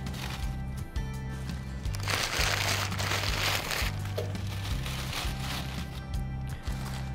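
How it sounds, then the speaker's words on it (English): Newspaper is crumpled by hand to light a Lopi Cape Cod wood stove, giving a close, continuous crinkling rustle over a low steady hum. "You also don't want to crumple it up super tight."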